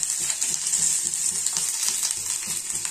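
Onion frying in oil for a gravy, with green chillies, ginger and garlic, gives a steady bright sizzle with soft periodic stirring scrapes, close and continuous without voices.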